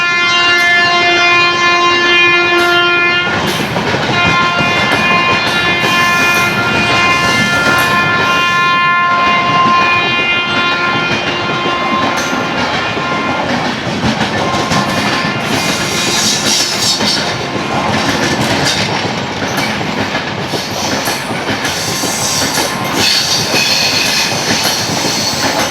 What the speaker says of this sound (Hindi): सामने से छपरा बत्रा सुपरफास्ट एक्सप्रेस आगे जा रही है ऐशबाग की दिशा में